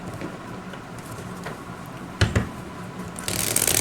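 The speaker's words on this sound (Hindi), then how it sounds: "तो ये कार्ड्स बिल्कुल अटक रहे हैं।" Tarot cards are shuffled close up in soft, papery riffles, with a louder burst of card noise midway and a brisk rustle at the end.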